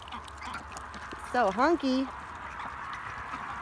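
A pet drake gives three short quacks in quick succession, close and clear, breaking into an otherwise quiet backyard while a person talks nearby.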